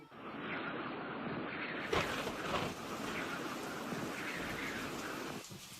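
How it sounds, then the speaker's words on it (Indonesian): Strong wind rushing over a boat at sea as a sound effect, a steady dense hiss like rain and surf, with a brief gust swell early on. "Saat perahu sedang berlayar, tiba-tiba angin yang sangat keras bertiup"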